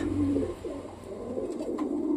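Pigeons in a cage coo in low, throaty, rolling phrases, several soft calls overlapping close by with a few faint chirps and no speech.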